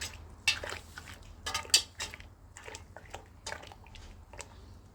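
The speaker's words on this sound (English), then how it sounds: "Just gonna stir that in." A utensil stirs citric acid into a pot of dye water for dip dyeing handspun yarn, giving a run of light clinks and scrapes against the pot with soft sloshing, close and moderately quiet.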